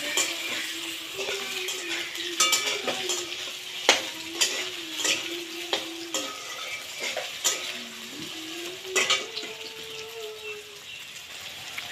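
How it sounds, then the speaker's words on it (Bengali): Soybean chunks frying in hot oil in a pan while being stirred, a steady sizzle broken by repeated scrapes and clinks of the spoon against the pan, close and fairly loud. "সয়াবিনটা তেলের মধ্যে ভালো করে ভেজে নেবে।"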